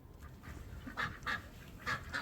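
A duck gives a handful of nasal quacks in short bursts over a steady background hum, heard from a moderate distance.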